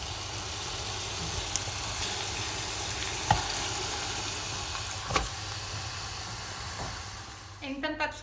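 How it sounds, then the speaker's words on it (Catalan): Fish pieces and bones sizzling as they are sautéed in a pan for arròs negre, a quiet steady frying hiss with a few sharp pops and clinks, ending in a brief clatter. "He intentat sofregir una mica el peix"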